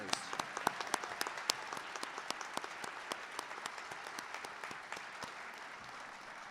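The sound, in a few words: audience applause for top ten percent seniors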